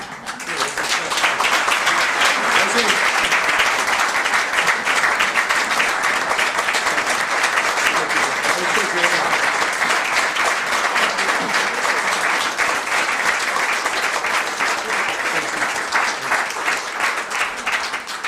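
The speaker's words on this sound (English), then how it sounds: "So I didn't have to ask for your applause" An audience at a city council meeting in Newport News applauds long and steadily, a thick, sustained wash of clapping with faint voices underneath.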